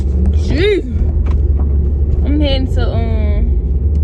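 A low, steady road rumble fills a car cabin while driving, with a person talking over the constant engine and tire drone.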